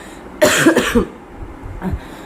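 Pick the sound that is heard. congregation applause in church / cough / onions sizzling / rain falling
cough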